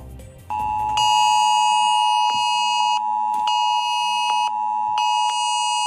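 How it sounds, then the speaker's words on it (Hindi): A mobile phone's cell broadcast emergency alert from India's new disaster warning service sounds loud and close, a piercing electronic tone pulsing on and off in a repeating rhythm with bright harmonic overtones. "आज आप में से कई लोगों के फोन पर एक अलर्ट वाला मैसेज और ऑडियो आया होगा।"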